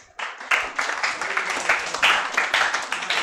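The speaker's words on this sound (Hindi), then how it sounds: "Round of applause सभी के लिए" A group of students in a class claps steadily, producing a dense patter of many hands that starts abruptly and continues evenly at moderate loudness without voices.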